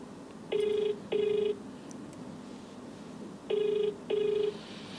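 Telephone ringback tone on an outgoing call, four steady two-part ring bursts in two pairs separated by a pause, clear and moderately loud over a faint background hiss, with no talk.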